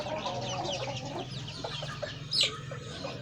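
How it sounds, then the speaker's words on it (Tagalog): Roosters cluck in a rapid, chattering stream close by, joined by other fowl, with one sharper squawk near the end. No talking is heard. "Napaka quality mga rooster."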